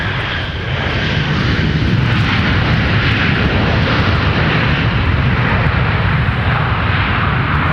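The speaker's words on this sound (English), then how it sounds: "Don't you just love the sound of those big reversers when they pop out?" Airliner landing at Minneapolis–Saint Paul airport with thrust reversers deployed, a loud, sustained broadband jet roar that swells within the first second and holds steady throughout, with no talk.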